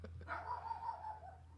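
Dogs barking somewhat far off, a few yips and barks rising over a steady low hum, with a sustained whine-like tone running through most of the moment.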